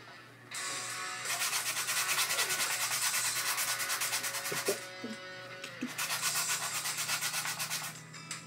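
A custom collectable belt is sanded in long, steady rasping strokes, close and fairly loud, with short pauses between passes and a faint low hum underneath.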